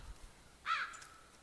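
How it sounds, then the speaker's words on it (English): A single crow caw rises faintly over quiet ambient noise in a misty cursed-forest video game, one short harsh call with no talk. "Oh my Jesus, you crows."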